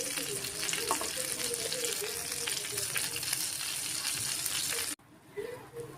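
Chicken frying in a pan with creamy sauce spread over the top, giving a steady close sizzle and crackle for about five seconds before cutting to a quieter, softer bubbling.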